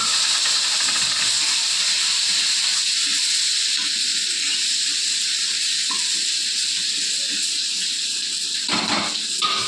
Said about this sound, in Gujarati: હવે ડુંગળી એડ કરી દે ઝીણી સમારી